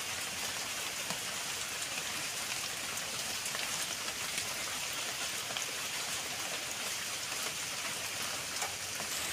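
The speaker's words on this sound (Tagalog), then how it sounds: "Ilalagay na po natin yung coconut oil natin." Coconut oil poured into a pot while making homemade sardines, a steady hissy trickle that runs evenly through the whole stretch with no voices over it.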